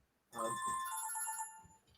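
A flip phone rings with a bright electronic ringtone, one short burst of tones at close range, with no voices over it.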